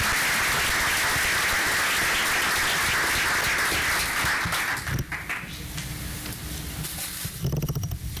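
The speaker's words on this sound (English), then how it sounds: "please give a round of applause for these outstanding guests" An audience at a school board of education meeting applauds student guests with dense, sustained clapping that fills a room for about five seconds before tapering off to scattered claps.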